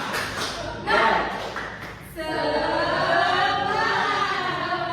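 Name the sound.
class doing the 'tepuk semangat' clapping routine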